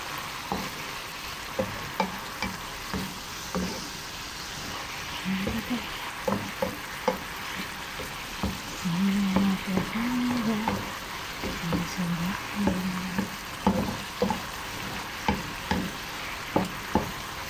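Food frying and sizzling in a pan, with a utensil stirring and scraping at intervals, close by and steady throughout; a voice speaks briefly now and then.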